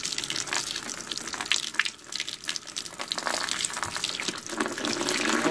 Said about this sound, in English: You're just going to be dumping it into a bucket, of course, by releasing the spigot on the bottom and then the spigot on the top.